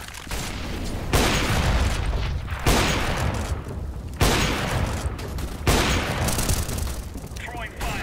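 Incendiary grenade fire and gunfire in Counter-Strike play as loud repeated bursts, with four strong broadband blasts about a second apart over continuous dense battle noise.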